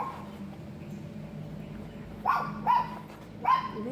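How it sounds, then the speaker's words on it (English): Three short barks from a dog somewhere off in the distance, spaced close together, over quiet outdoor background noise. "Sorry about all barking."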